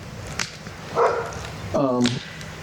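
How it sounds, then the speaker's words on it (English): Dogs chasing a cat: two short barks close by, the second a harsher, tonal yelp, against a quiet outdoor background. "Old Fish just got chased by the dogs"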